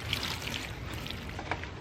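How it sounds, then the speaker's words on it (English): Water is poured onto potting soil in a container prepared for planting camellias, a close, steady trickling pour lasting under two seconds with no voices. "and then I water it"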